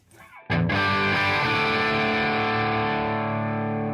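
An electric guitar through an AmpliTube Mesa Boogie Mark IIC+ amp simulator, with the mids at zero, rings out one heavily distorted chord after a short scrape, sustaining loud and thick before slowly fading.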